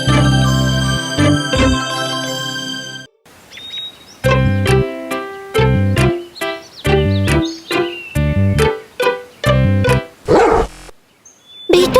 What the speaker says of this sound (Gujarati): કૂતરો કંઈ જોઈને ભોંકી રહ્યો છે